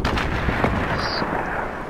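Gunfire in the Fortnite video game rumbles continuously as dense, booming shots and blasts that overlap into a steady roar, with no clear speech.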